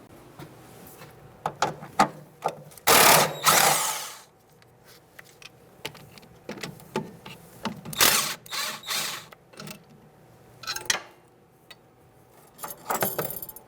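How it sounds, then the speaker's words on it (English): A socket wrench with a 10mm socket ratchets out two bolts on a 2000-2007 Ford Taurus during a rear brake hose replacement, giving bursts of close clicking with metallic clanks and pauses between them. "now we're going to take out our 2 bolts here, 10mm socket"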